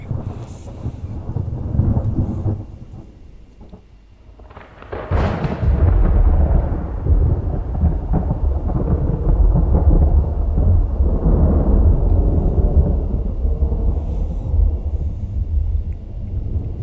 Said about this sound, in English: So much thunder and lightning.